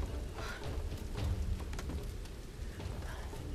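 Steady rain pours through a Tomb Raider (2013) game scene, a dense continuous hiss with low rumbling underneath and a few brief sharper bursts, holding at an even level throughout.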